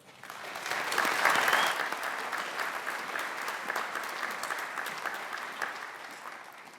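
Sustained audience applause at an evening Ivy Day ceremony welcoming a speaker to the podium, swelling early then settling into steady clapping with no voices over it.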